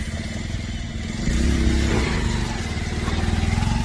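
A motorcycle engine revs hard while the bike is being push-started. A rough, throbbing engine note rises and grows louder after the first second, then holds steady with a pulsing idle-to-rev rhythm.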